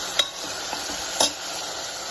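A tomato and spinach curry with egg cooks in a pan with a low, even sizzle, broken by two sharp scrapes of a spoon stirring against the metal.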